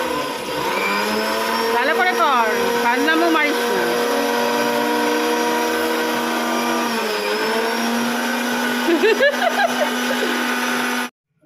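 An electric mixer grinder whirs steadily while grinding spices in a home kitchen, a loud continuous motor drone with slight pitch shifts, running alone for about eleven seconds before cutting off abruptly.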